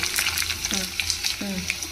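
Curry leaves dropped into hot oil with garlic cloves, tempering for a dried red chilli and tomato chutney, give a steady close sizzle with brief louder crackling bursts.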